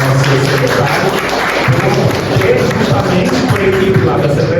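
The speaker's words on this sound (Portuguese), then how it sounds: "eu gostaria até de pedir uma salva de palmas ao nosso professor Aldemir, nosso secretário" Dense applause from an audience fills a council session hall, loud and continuous throughout with murmuring voices beneath it.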